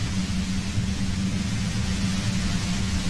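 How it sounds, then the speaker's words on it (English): Steady, dense white-noise hum of a compressor in the video game Disco Elysium, a loud, unbroken broadband wash with a low rumbling base and no voices. "The violet white noise becomes even more overwhelming closer to the compressor."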